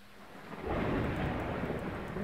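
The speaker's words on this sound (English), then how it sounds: "Unfortunately, the thunder is too loud." Thunder rumbles through the video game Phasmophobia, a low, rolling roar that swells after a quiet start and holds steady with a rain-like hiss above it.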